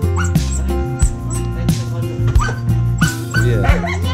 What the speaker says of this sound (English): so that dog is really angry